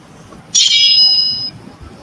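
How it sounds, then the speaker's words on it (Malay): A single bright metallic ring of fencing swords clashing, rising sharply and shimmering for about a second before cutting off. "bunyi yang kedua ini merupakan bunyi sukan lawan pedang"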